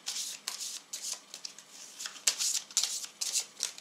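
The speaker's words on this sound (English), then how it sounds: "The remaining map tiles are shuffled" Map tiles from the Zombies board game being shuffled by hand, a close run of riffling, slapping bursts in an uneven rhythm with brief pauses between shuffles, no talking.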